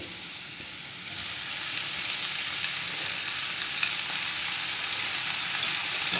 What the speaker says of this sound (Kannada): ಗ್ಯಾಸ್ ಸ್ಟವ್ನ ಮೀಡಿಯಮ್ ಫ್ಲೇಮಲ್ಲಿ ಇಟ್ಕೊಂಡು ಸೊಪ್ಪನ್ನ ಒಗ್ಗರಣೆಗೆ ಮಿಕ್ಸ್ ಮಾಡ್ಕೋಬೇಕು